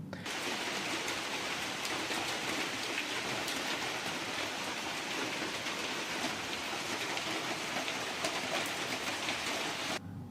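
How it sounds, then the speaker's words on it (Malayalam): Light rain falls steadily, a soft even patter that holds for about ten seconds with no voices. "ഇതാ രാത്രി കഴിയുമ്പോഴേക്കും ഒരു ചെറുതായിട്ട് മഴ പെയ്തു തുടങ്ങിയിട്ടോ"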